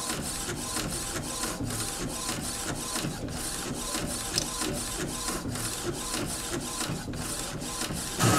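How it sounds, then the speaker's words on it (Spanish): An HP 7110 inkjet printer runs a print job, its carriage shuttling back and forth in a steady, even rhythm of whirring passes without pauses, close and continuous with no talking. "Al tener ese ritmo, quiere decir que tiene tinta y que está imprimiendo bien"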